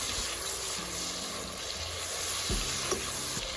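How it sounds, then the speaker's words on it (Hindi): Tomatoes, salt and ginger garlic paste are stirred in a hot pan for a dhaba-style mixed vegetable dish, giving a steady close sizzle and frying hiss with soft scraping strokes throughout. "फिर इसके अंदर ऐड कर रही हैं टमेटोज एंड सॉल्ट और फिर इसको अच्छी तरह से मिक्स कर लेंगे"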